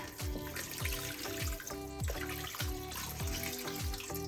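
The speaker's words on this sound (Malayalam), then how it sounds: "ഇനി ബാക്കി സ്റ്റോക്കും കൂടി ഒഴിച്ച് ഒന്ന് തിളയ്ക്കാം വെക്കാം" Stock pours steadily into a pan of mushroom sauce for schnitzel, a continuous close liquid splash and trickle lasting several seconds with no talk.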